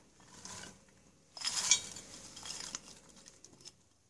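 Chopped vegetables tumble into a slow cooker for jambalaya, a quiet run of clinks and rattles with one louder clattering burst in the middle.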